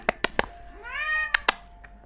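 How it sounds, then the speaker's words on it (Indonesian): A pet cat gives one drawn-out meow close by, surrounded by sharp clicking and tapping knocks before and after. "I'm sorry for the noise kucing aku"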